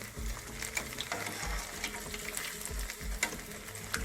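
Saltfish fritters fry in a pan for a Jamaican breakfast, a soft steady sizzle with faint bursts of spattering oil and no one talking.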